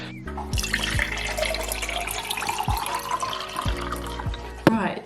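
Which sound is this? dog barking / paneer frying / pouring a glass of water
pouring a glass of water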